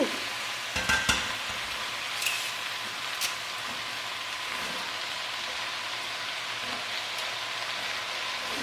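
Onion cooking down in a pot with onion powder and garlic powder, a steady soft sizzle under an occasional stir and a few light clinks early on, no voices.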